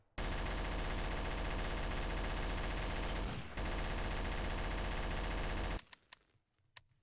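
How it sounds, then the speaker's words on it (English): Sustained loud automatic gunfire in Garry's Mod Trouble in Terrorist Town, rapid continuous bursts for several seconds with a brief pause, then stopping into near quiet with a couple of faint trailing shots. "Okay, who's shooting?"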